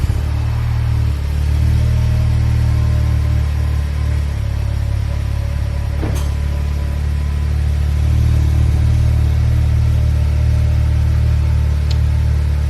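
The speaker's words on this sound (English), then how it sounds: "this is going to be the last cold start on the stock exhaust" A Honda Civic Type R on its stock exhaust with an aftermarket front pipe and downpipe idles steadily after a cold start, giving a low, even, fairly quiet hum with one brief click partway through.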